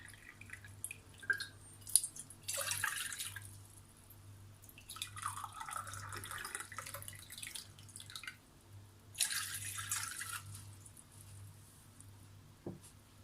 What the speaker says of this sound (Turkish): Öncelikle yoğurma kabımın içerisine 2 su bardağı ılık su alıyorum.